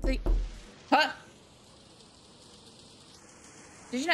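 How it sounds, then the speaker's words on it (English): Steady rain hisses in the horror video game Unshattered Destination, a soft continuous wash running through the middle, with a voice speaking briefly at the start and end. "I just heard rain."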